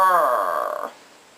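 A person imitates a rough dog bark with the voice, one drawn-out gravelly, growling bark that ends in a rattling flutter, close and loud, then fades out.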